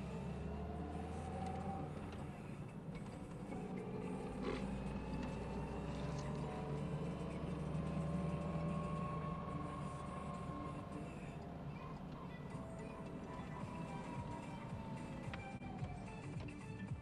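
A car engine hums steadily and quietly while being driven gently, with a low, even drone and faint road noise throughout and no sharp changes.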